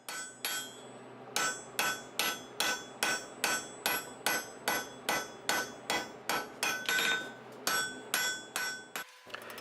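Steady hammer blows on a steel bar resting on an anvil, drawing the end down to a smaller size; about twenty sharp, ringing strikes fall in an even rhythm, close and loud, with no talking.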